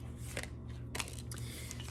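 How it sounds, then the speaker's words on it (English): A deck of tarot cards is shuffled up close in quick riffling bursts with brief pauses, crisp papery flutters and no talk. "I'm going to shuffle one more time"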